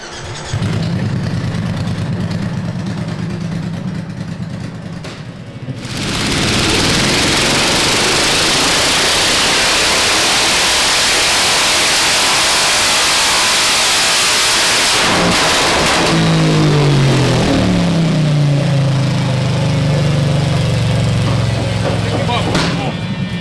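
A custom Triumph bobber motorcycle engine roars hard on a dyno, loud and sustained with a brief dip midway before a second rising rev run; voices are faintly present.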